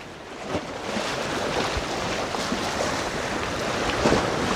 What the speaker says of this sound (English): this wind is a bit stronger than I thought it was going to be